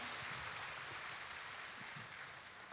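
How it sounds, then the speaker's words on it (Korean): A church congregation gives a broad, even round of applause during a Sunday worship service. It is steady and fairly faint, heard from a distance. "하나님께 영광의 박수 올려드리도록 하겠습니다"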